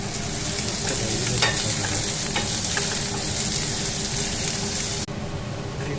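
Onions and carrot pieces fry loudly in a pan, a dense crackling sizzle with a few sharper pops and stirring clatters, the level dipping slightly near the end; no one speaks.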